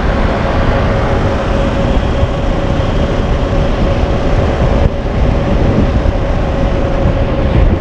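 KTM 390 Adventure motorcycle riding through Iloilo City streets at night, a loud constant engine drone and wind rush with an unchanging rhythm, close to the microphone and without talking.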